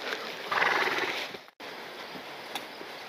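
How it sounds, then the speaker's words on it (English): A group of horses hustles past on a farm: a short rush of hoof and movement noise, loudest early on, then a quieter stretch with a brief break in between. "Like right here, we have some horses coming through, they're hustling."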